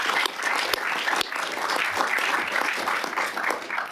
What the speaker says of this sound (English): Yeah, let's have a round of applause.